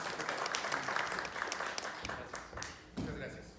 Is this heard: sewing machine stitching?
no